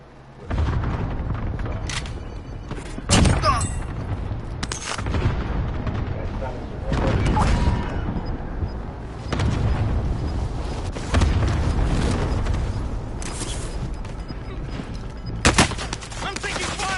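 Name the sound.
gunfire in a video game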